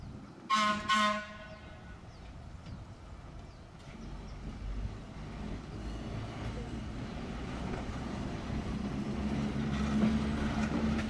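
Train at the Southern California Railroad Museum, standard gauge line: a short loud horn blast near the start, then a steady rumbling of rolling equipment building and continuing, with some faint voices.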